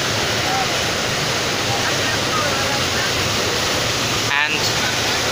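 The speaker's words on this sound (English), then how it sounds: "This is Bay of Bengal Sea." Rough sea waves on the Bay of Bengal between Myanmar and Bangladesh, a steady loud wash of surf with wind noise throughout and a brief louder gust near the end.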